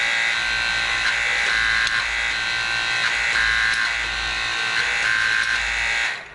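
A Hytorque hydraulic torque wrench pump switched on and running, a steady loud electric buzz with a strong low hum holding for several seconds before cutting off at the end.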